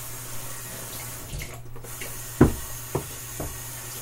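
Water from a tap runs with a soft steady hiss onto a knife sharpening stone, broken by a few sharp knocks and splashes near the end, close and moderately loud.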